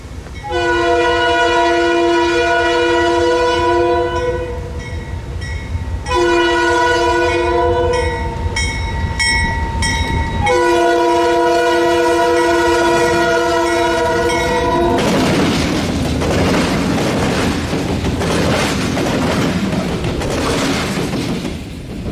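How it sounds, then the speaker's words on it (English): An ALCO M630 diesel locomotive, number 3007 in General Electric demonstrator paint, leads a northbound train, sounding long multi-tone horn blasts in separate bursts close by, followed by loud rumbling engine and rolling rail noise as it passes. "M630, number 3007, still in General Electric demonstrator paint, is leading the northbound return to Scranton"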